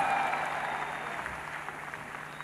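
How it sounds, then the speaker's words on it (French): A church congregation at a revival service claps for the singers and musicians, a dense sustained round of applause filling the room from start to finish. "Acclamez très fort pour eux."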